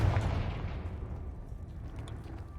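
A Confringo fire spell blasts in Hogwarts Legacy, a loud booming burst at the start that rolls off into a rumbling tail with no one talking.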